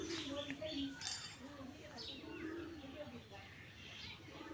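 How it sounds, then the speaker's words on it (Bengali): Pigeons perch on a roof and coo in low, repeated calls, with faint voices and clinks in the background. "সবগুলা কবুতর চালে বসে দিচ্ছে"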